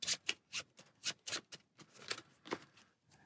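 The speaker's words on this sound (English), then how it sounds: "And shuffle the deck." A deck of cards shuffled during a Star Wars: Outer Rim board game, a series of soft, quick riffling bursts in an uneven rhythm, close and quiet with no talk.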